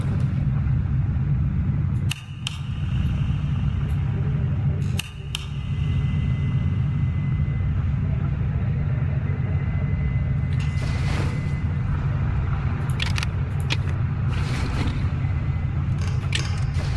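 Generator in the horror game Darkwood starting and then running: a steady low mechanical drone with creaks and clanks, broken by a few short sharp bangs and scrapes.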